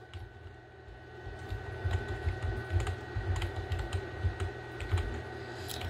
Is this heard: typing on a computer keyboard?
yes